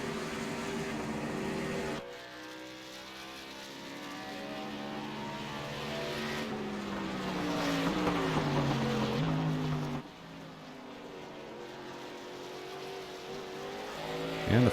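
A racing go-kart engine at a karting series event on a road course drones and climbs in pitch as the driver gets back on the throttle through the S turns, steady and fairly close, then dips and rises again.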